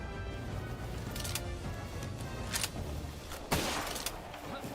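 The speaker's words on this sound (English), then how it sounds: "High priority shooting now." Gunfire from a shooting fight in the video game Palworld, several sharp reports scattered through a dense game soundtrack, one louder crack near the end standing out over the mix.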